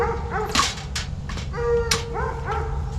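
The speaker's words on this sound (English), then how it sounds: "forgive me for the coon dogs" Coon dogs owned by a coon hunter bark and whimper in hilly country, with several sharp barks mixed with high whines and yips. They sound moderately near, with no voices.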